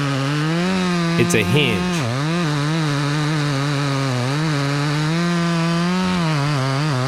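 A chainsaw cuts an open face notch into one trunk of a double tree, its steady loud engine drone holding throughout and rising slightly as the chain bites, with a brief voice heard over it.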